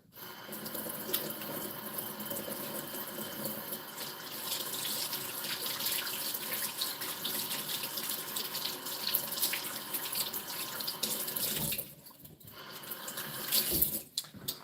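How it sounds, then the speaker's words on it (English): Hands being washed under a running tap, a steady hiss of water splashing into a sink for most of the span, briefly dropping away near the end before resuming, close and moderately loud with no speech. "I'm gonna wash my hands though."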